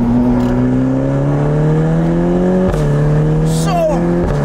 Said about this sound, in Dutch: Doe eens optrekken en doorschakelen.